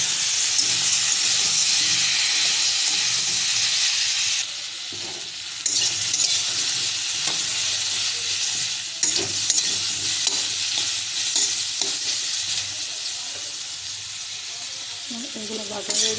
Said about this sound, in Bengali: তেলটার মধ্যে এটা ফ্রাই করে নেব।